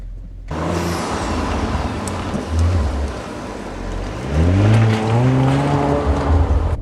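Second-generation Audi RS5 driving on the road: a strong, steady engine drone with rising and falling revs and tire roar, loud and close, with no talking.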